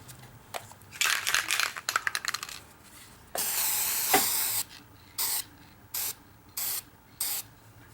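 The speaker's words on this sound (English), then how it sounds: "take the black and spray it on" A spray can of black paint is rattled, then gives one long hiss of spray followed by four short, evenly spaced bursts, close and clear.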